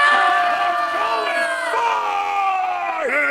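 A crowd at a Florida Renaissance Festival Ottoman Empire encampment roars a sustained battle cry together, loud, close and continuous for about three seconds, with voices swooping in pitch before cutting off abruptly.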